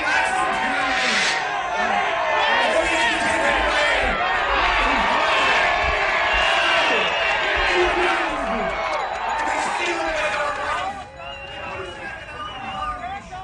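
A protest crowd hollers and cheers loudly for most of the clip, a dense wall of shouting voices that eases off near the end.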